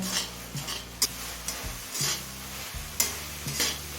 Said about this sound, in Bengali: এবার হাই ফ্লেমে কিছুক্ষণ কষিয়ে নেব